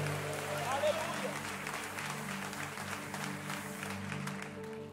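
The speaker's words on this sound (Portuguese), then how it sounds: "Posso ouvir um glória a Deus e um aplauso da igreja?" A church congregation applauds during a service, a soft, fairly distant patter of clapping that sits under a steady musical backing and continues evenly throughout.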